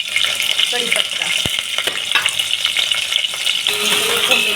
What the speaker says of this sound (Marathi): फोडणीला आपण टाकून घेऊ आणि मस्तपैकी त्याची फोडणी तयार करून घेऊ